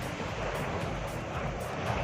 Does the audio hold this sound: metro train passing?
no